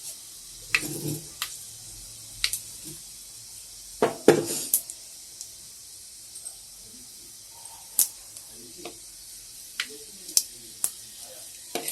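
Tadka spices crackle in hot oil for a baingan mangodi dish, with sharp scattered pops and brief sizzling bursts over a quiet kitchen background, fairly close.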